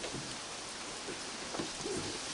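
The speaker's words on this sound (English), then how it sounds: "it's been raining all day." Steady rain falls at night outdoors, a soft, continuous hiss with scattered droplet taps, faint and even with no voices.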